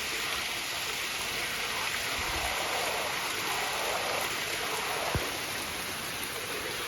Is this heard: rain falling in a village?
yes